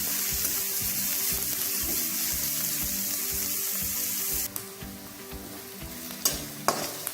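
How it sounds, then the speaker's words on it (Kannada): Chopped onion frying in a pan, with a steady sizzle and stirring scrapes close by, and a brief splash of running water near the end. "ನೋಡಿ, ಇದು ಫ್ರೈ ಆಗ್ತದೆ."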